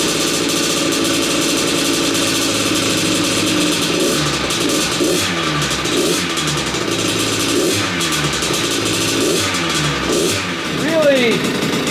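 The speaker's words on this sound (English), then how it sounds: "The bike sounds awesome. Motor sounds nice and tight, crisp." A Kawasaki KX100 dirt bike engine runs steadily at close range, its two-stroke note rising and falling through several revs over a constant idle, loud throughout without talk.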